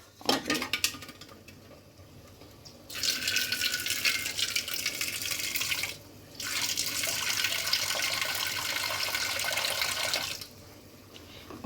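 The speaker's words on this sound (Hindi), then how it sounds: "और अब ये इसमें जो ये लगा हुआ है इसको मैं थोड़ा पानी डाल दूँगी।" Water poured from a tap into a pan of spices while cooking zero-oil jackfruit, two sustained gushing pours with a short break between, close and fairly loud, with light clinks of metal cookware before.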